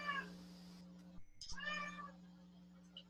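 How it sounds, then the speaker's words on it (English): Pet cat meowing close up, a couple of clear, loud meows separated by a short gap, over a steady electrical hum. "she's showing off her kitty cat"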